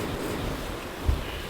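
Wind gusts steadily outdoors at a fishing spot by the water, buffeting the microphone with a constant roar and a brief thump near the end.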